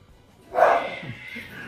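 A single short dog bark sounds at close range in a Brazilian home setting, followed by a faint softer yip.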